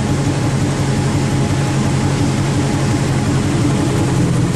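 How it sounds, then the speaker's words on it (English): A car engine fitted with an Adaptronic ECU and missing its rear exhaust pipes idles in a workshop, producing a steady, loud, unbroken drone throughout. "Just idling away. It's missing its rear pipes at the moment."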